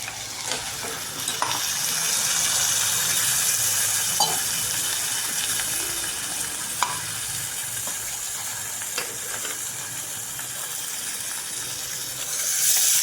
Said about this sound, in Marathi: आता याच्यामध्ये मी पाणी ॲड करते